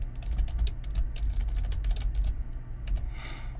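Someone types a password on a computer keyboard, a quick irregular run of crisp key clicks with brief pauses, close and clear, with no talking.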